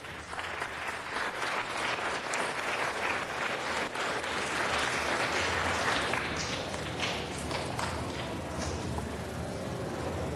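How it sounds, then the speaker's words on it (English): An audience at a city council meeting gives sustained applause, a dense, even clatter of many hands clapping for about ten seconds without pause. "let's give them a big round of applause"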